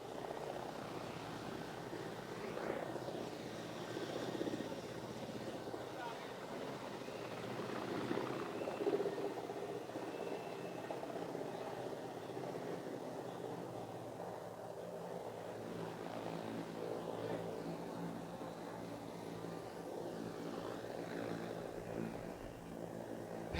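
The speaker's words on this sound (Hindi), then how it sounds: "आप देख सकते हैं कि हेलीकॉप्टर जो है वो बिल्कुल निचली परवाज़ कर रहा है" Low-flying helicopter hovering inside Gaddafi Stadium in Lahore to dry the field, its rotor drone a steady, fairly distant wash of noise with no voices over it.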